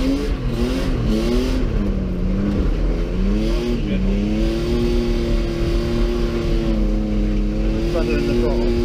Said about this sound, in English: Do a quick rev then.